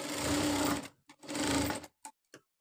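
Sewing machine stitching a garment neck piece, two bursts of rapid mechanical stitching about a second each, close and loud, followed by a few light clicks and handling taps.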